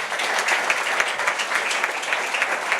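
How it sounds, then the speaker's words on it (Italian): A business association's awards ceremony in Venice fills with steady, dense applause from a seated audience, honouring an award given in memory of an entrepreneur; the clapping stays even and sustained throughout, with no talk over it. "a cui farei un grande applauso"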